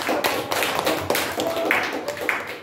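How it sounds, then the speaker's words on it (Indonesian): A class or group of teachers clapping hands together, a fairly close burst of uneven claps with a few louder strikes, mixed with faint background voices and room noise. "Oke, tepuk tangan."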